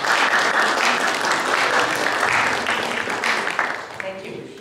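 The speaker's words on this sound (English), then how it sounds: "So please give her a warm round of applause." Audience applause at a talk on the history and memory of the Shanghai American School, a dense, steady wash of many hands clapping that fills the room, then thins out toward the end.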